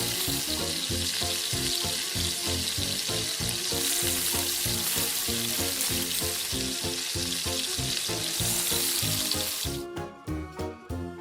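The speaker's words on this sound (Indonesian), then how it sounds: "Goreng api sedang." Crispy eel coated in flour, egg and Cheetos crumbs fries in oil over medium heat, giving a loud, steady sizzle throughout with a few sharper clattering bursts near the end; no one speaks.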